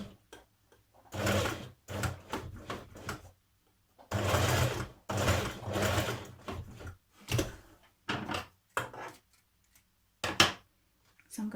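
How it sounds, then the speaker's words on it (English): A sewing machine stitches over marked pleats on a dress in bursts of rapid, clattering stitching, stopping and starting several times with short silent pauses between runs. "now that these pleats are marked, I'm going to stitch over them just to keep them in place"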